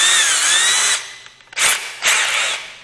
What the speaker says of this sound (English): I am going to put it into the drill. Point first, head out.